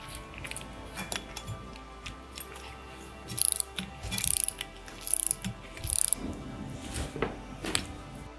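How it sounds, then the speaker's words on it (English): A calibrated torque wrench set to 45 newton metres ratchets in repeated bursts of sharp clicks while tightening a fischer FAZ II throughbolt expansion anchor, close and fairly loud with pauses between strokes. "So we have calibrated torque wrench and we need to set it to the correct value."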